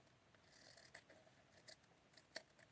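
Scissors snip through a sewing pattern for doll-sized hippie flower power pants and top, a few short, faint crisp cuts spaced irregularly in an otherwise quiet room.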